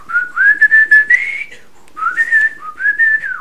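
Melodic whistling from a New Orleans rhythm-and-blues record plays loud and clear, two sustained rising and falling phrases with a short gap between them.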